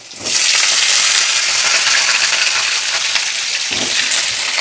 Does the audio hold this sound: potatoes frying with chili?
yes